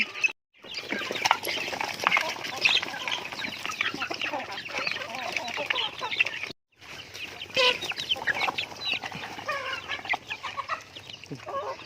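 A flock of chickens clucks and chatters busily while being fed grain scattered in several spots, with dense overlapping calls and pattering pecks close by, briefly cutting out twice.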